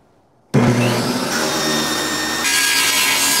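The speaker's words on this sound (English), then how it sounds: "I needed to make a quick cut on my ghetto table saw," Table saw run from a portable battery power station, starting abruptly from silence into a loud sustained whine as the blade bites into wood, the pitch shifting slightly partway through the cut.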